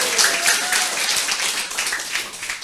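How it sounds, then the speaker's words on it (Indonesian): An audience at a training session claps for a speaker, a steady wash of many hands clapping close by, lively and unbroken throughout with no talk over it. "Tepuk tangan dulu untuk Pak Bambang."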